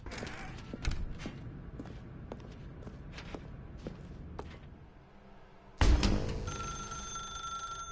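A telephone in The Stanley Parable video game rings out loudly near the end, preceded by quiet footsteps and creaks in an otherwise hushed room.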